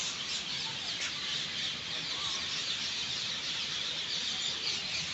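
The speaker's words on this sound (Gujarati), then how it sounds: "પોપટ બોલે છે ભાઈ બહુ ખતરનાક" Shrill parrot calls screech continuously over a dense, steady outdoor din near a bus stand, loud and close, with no pauses across the stretch.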